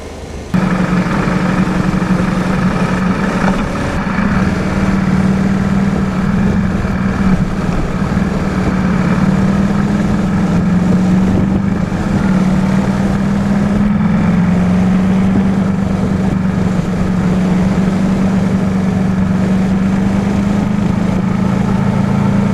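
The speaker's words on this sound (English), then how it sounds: "there's something about the growl of a V-twin" A KTM 1290 Super Adventure S V-twin motorcycle engine rumbles loudly and continuously at idle, a deep, steady growl holding without pause.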